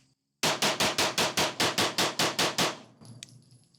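Staccato HD C3.6 compact pistol fired as fast as possible, twelve loud, evenly spaced shots in a quick run of about two seconds, followed by ringing and faint clatter.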